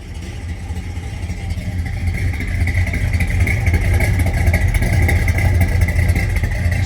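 1970 Dodge Super Bee engine running steadily close by, a continuous low rumbling idle that grows slightly louder partway through, with no talking over it.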